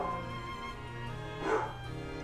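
A dog in the Final Fantasy XI online game, giving a short bark or whimper against a steady droning game background, with a sharp click at the very end.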